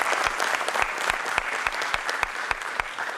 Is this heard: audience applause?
yes